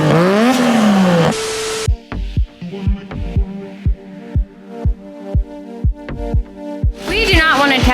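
A 3-rotor Mazda RX7 engine on a dyno roars loud and climbs in pitch, cuts off, then settles into a choppy, lumpy idle with regular heavy thumps before rising again at the end.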